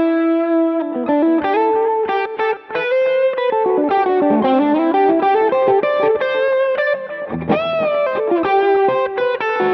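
An electric guitar played through a simulated EL84 tube amp with a speaker cabinet simulation, delay and reverb rings out in a melodic run of notes, close and full, lightly driven, with echo tails and no talk.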